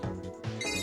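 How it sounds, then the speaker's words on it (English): A telephone ringing in a video game, a brief, faint electronic ring that pulses over a steady hum. "Ah, the phone. Who could it be?"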